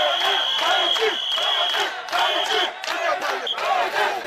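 A crowd of SDF party militants in Loum shouting an acclamation, loud rhythmic chanted bursts of many voices with shrill whistles cutting through, repeating several times in close succession.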